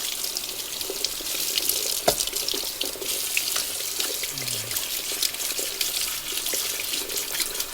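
Tap water runs steadily into a sink while a 1920s Akron 103 lantern is rinsed, a continuous close hiss of flowing water with faint clinks and no talking.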